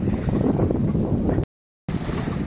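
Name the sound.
wind while sailing a boat at sea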